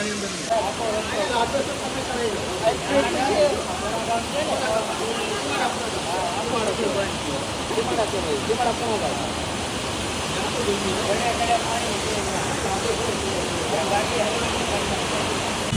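Steady broadband rushing of water, loud and continuous, like rain floodwater pouring along a street in Surat, with no clear pauses.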